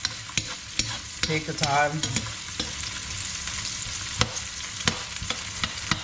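Onions frying in oil in a pan for a Trinidadian-style chicken curry, with repeated stirring clatter and scraping over a steady low sizzle; a voice speaks briefly.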